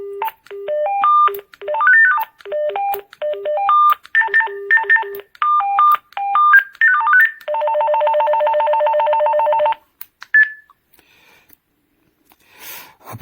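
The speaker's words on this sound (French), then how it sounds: "Il y a plusieurs sonneries différentes." An AWANFI rechargeable walkie-talkie plays several different electronic ringtones: quick beeping melodic sequences, then a steady buzzing trill and a single short beep, clear and close with silent gaps between them.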